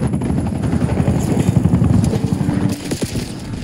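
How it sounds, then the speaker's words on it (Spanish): A helicopter in the Call of Duty Black Ops video game gives a steady, loud, rhythmic rotor chop with constant engine roar throughout, close and unbroken. "Llamada, helicóptero vigía,"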